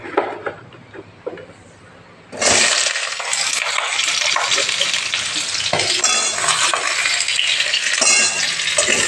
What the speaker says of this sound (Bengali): কড়াইয়ে তেল দিয়ে দিয়েছি, এবার পটলগুলো আমি ভেজে নেব।